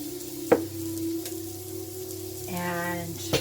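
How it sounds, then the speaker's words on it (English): Cumin and other spices browning and sizzling in a pan at a cabin while squash and vegetable puree soup is made. A steady close sizzle with a sharp clink or stir near the start and a brighter bubbling burst toward the end. "This is just slightly browning, mixing in with the cumin and the other spices."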